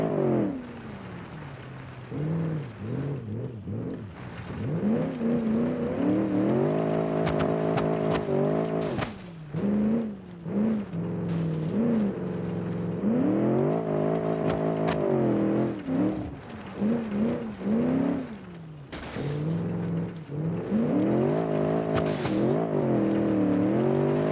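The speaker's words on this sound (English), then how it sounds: "This car is definitely faster." A car engine in the BeamNG driving game revs up and down repeatedly, loud and close, with rising and falling engine whine and brief drops between gear changes or throttle lifts.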